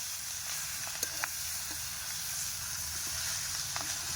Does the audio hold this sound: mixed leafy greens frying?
yes